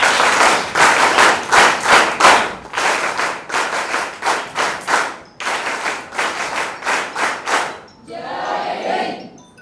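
An NSS group at a Mumbai college event claps in a rhythmic unison pattern, bursts of synchronized hand claps repeating in measured phrases, loud and close, ending with a short stretch of looser crowd noise.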